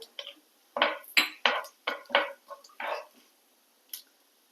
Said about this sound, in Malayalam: ഒന്ന് ഇളക്കി കൊടുക്കാം ഒന്ന് ഇളക്കി കൊടുത്ത ശേഷം